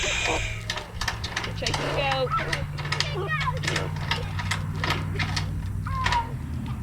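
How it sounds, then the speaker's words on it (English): A ratchet strap's rapid mechanical ratcheting clicks repeat in bursts on a goat farm, mixed with honking geese and a voice speaking nearby. "That ratcheting sound is a ratchet strap"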